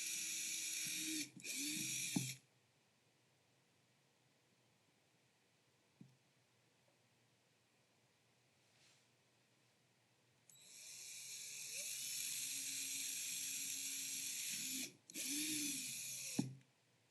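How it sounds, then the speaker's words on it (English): Power drill boring pilot holes into a filament drybox, two loud whirring bursts of a few seconds each separated by a long quiet gap with a faint click, with no voices. "we'll drill all 3 of these"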